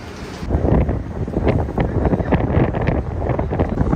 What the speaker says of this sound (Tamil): ஏன்னா செமையா காற்று வேற அடிக்குதா